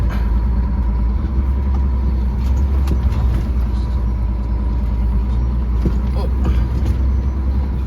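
A vehicle climbs a hill on an ice road, its engine rumbling loud and steady as the wheels spin and slip, with a few short crackles on top and a man's brief exclamation.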